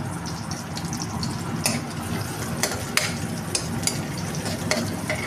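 Garlic and onion sautéing in a pan, a steady close sizzle and fry with occasional sharp scrapes and clinks of a stirring utensil against the pan.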